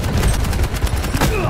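Shotgun blasts in the video game Quake Champions, a rapid run of loud, close gunfire bursts amid the clatter of an arena firefight.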